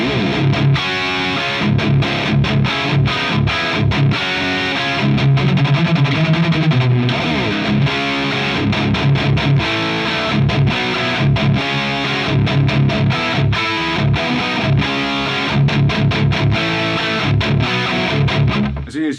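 Heavy, chunky palm-muted riffing on an electric guitar through a modded Marshall 1959HW Plexi amp, thick distortion played loud and continuous with tight rhythmic chugs and no talking.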